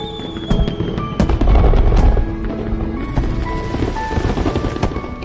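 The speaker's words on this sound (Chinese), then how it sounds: "居然还有烟花。" Fireworks go off in rapid succession, a dense run of sharp pops and crackles over a continuous low rumble, fairly close and loud, with no voices.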